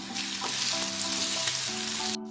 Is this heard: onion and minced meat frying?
yes